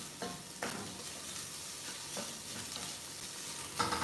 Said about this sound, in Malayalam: ഇതിപ്പോൾ 1-2 മിനിറ്റ് ഇളക്കി ഫ്രൈ ചെയ്തിട്ടുണ്ട്